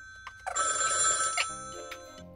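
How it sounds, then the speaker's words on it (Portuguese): A telephone bell rings in a short electronic burst followed by a softer repeating tone, fairly quiet and close in an indoor kitchen setting, with no talking. "Oh, o telefone está a tocar."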